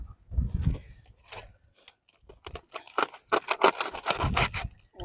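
Grilled squid is cut up at close range with a run of short scraping, snipping strokes, sparse at first and then coming quickly in a dense cluster.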